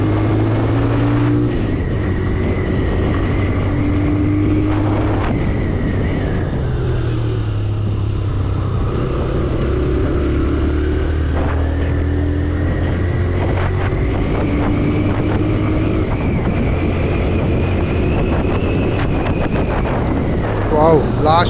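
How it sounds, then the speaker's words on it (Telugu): A TVS Raider 125 motorcycle engine and exhaust hum steadily while riding, the pitch sliding up and down with throttle changes under constant wind buffeting on the microphone. "ఇంజన్ చాలా స్మూత్గా ఉంది అండ్ ఎగ్జాస్ట్ నోట్ కూడా భలే వినసొంపుగా ఉంటుంది ఈ బండిది"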